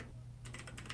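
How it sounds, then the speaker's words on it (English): Rapid typing on a computer keyboard begins after a short pause, a quick cluster of close, crisp key clicks, heard alone. "Panic typing."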